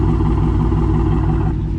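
A car engine idles before an X-pipe exhaust install, giving a steady, close, low rumble with a faint, even pulse throughout and no one speaking.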